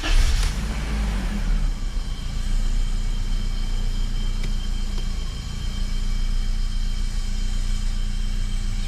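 A BMW E30 engine starts with a brief burst and then settles into a steady, close idle, with a continuous low rumble and no talk.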